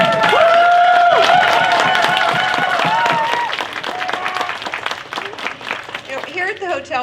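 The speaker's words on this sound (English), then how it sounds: "give a warm, overwhelming applause for Nicole and Gage and Blair and the whole crew" Crowd applause at a conference opening ceremony, dense clapping that fades over several seconds, with cheers and a voice speaking over it toward the end.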